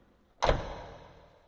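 The cab door of a HOWO truck swings shut with a single solid thud after a brief quiet, the impact ringing out and fading over about a second.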